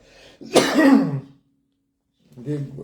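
A single harsh throat clearing up close, followed by silence and a brief bit of speech.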